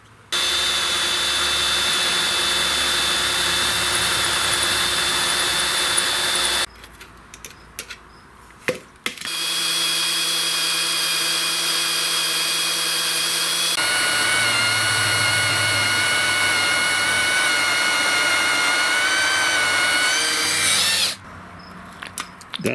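A power drill with a Walter bit and cutting oil bores out a broken bolt in a lawn mower engine block. The loud, steady whine runs in long bursts, with short pauses between runs.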